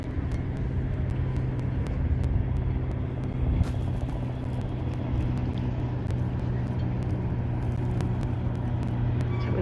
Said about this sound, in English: There's the sound of another NYC ferry coming in.